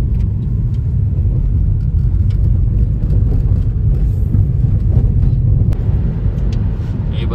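A car driving slowly along a foggy, heavily potholed road, with a continuous low rumble and road noise from inside the vehicle and occasional faint knocks and rattles.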